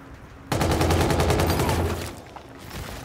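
Rapid automatic gunfire from the Call of Duty Infinite Warfare video game bursts in abruptly and rattles on for about a second and a half in a dense, even rhythm before fading, loud and close.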